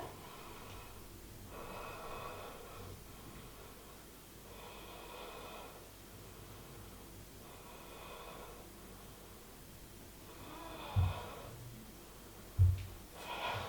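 Slow, deep breaths drawn in and out during a yoga bridge pose, a series of soft airy swells with a couple of sharper exhalations near the end, fairly quiet and close with no talking.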